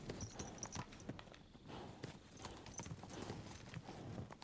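In the video game Kingdom Come: Deliverance II, horse hooves clip-clop in a steady rhythmic walk at moderate distance, faint overall, with a brief whinny-like tone and light ambient background.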